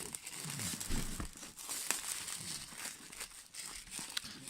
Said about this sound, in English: Okay, now I've removed the plastic wrapping around it.